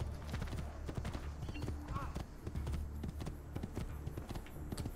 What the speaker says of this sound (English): Yeah, I'm gonna jump on this horse now.